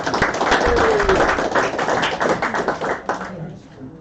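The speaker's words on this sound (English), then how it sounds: "we'll give them a round of applause anyway" A room of guests at a Bristol Motor Club awards night claps for the first-place crew, a dense burst of applause that stays loud for about three seconds and then thins out and fades.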